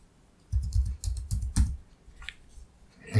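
Someone types a value on a computer keyboard: a short close burst of soft key taps in two small groups, with quiet gaps between and no talking.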